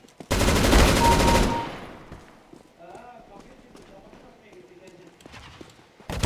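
A loud, dense burst of gunfire from a shotgun in the video game CS:GO fades into quieter in-game clatter and footsteps, then another blast sounds at the end, with voices talking in between.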